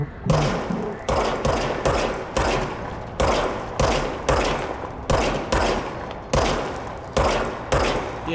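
Repeated gunshots from the player's gun in the video game Control, about a dozen loud, sharp reports fired in a steady rhythm, each ending in a short decaying tail, with only faint talk.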